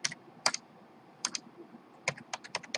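Numbers are tapped out on a computer keyboard in quick bursts of crisp, close key clicks separated by short pauses, with no voices.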